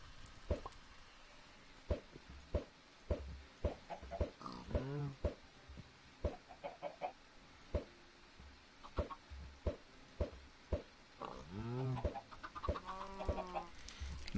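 Chickens in Minecraft cluck in short, soft bursts, mixed with scattered quiet plops and game thuds, all at low volume.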